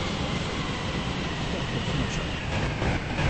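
A video game train approaching a station: a steady broadband rumble of rolling rail stock with faint clickety-clack, continuous and fairly close, with no clear speech on top.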